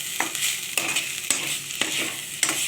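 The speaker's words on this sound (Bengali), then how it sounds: "গোলমরিচ ছড়িয়ে একটু নেড়ে চেড়ে দেবো" Fried pointed gourd and potato peels with black pepper being stirred in a pan: a constant close sizzle broken by four or five sharp scraping strokes of the spatula at a steady pace, no voices.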